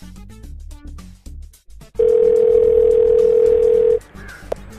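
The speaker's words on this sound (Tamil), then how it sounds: "யாரு கால் பண்ணா? திவ்யா. பண்ணுவோம், என்னதான் பண்ணான்னு பார்ப்போம்." A phone call tone sounds as one loud, steady, unbroken electronic note lasting about two seconds, then cuts off abruptly. Brief talk comes just before it.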